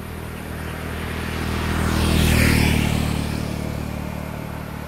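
Motorcycles ridden back and forth on a road west of Bayon temple in Angkor; one close engine swells as it approaches, peaks loud mid-clip, then fades away as it passes, with no talking.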